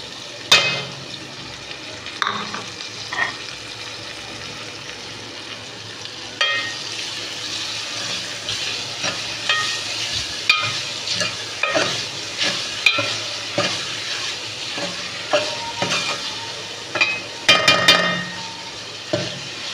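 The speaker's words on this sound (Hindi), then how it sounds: "डालेंगे लहसुन अदरक का पेस्ट" Garlic ginger paste frying in a hot pan sizzles continuously, close up, while a spoon stirs and scrapes against the metal in repeated strokes, with no voices over it.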